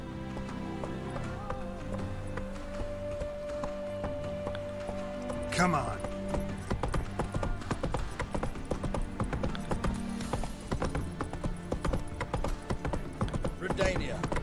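Roach, the horse in The Witcher 3, gallops with a steady, rapid clip-clop of hooves throughout, joined by a whinny partway through, while someone speaks briefly over the hoofbeats.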